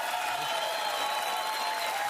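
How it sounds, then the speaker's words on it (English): Studio audience applause rolls on continuously at a talk show taping, a smooth wash of many hands clapping at an even level with a faint steady tone running underneath. "That's enough applause"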